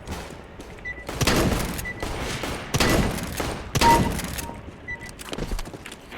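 Single shotgun blasts from the Nova pump shotgun in CS:GO, four or five loud, close booms spaced about a second apart, each with a short rattling tail and faint clicks of handling between them.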